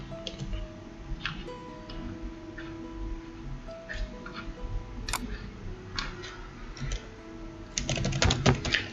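Typing on a computer keyboard, a steady patter of close, light key clicks with a brief quicker, louder burst of keystrokes near the end.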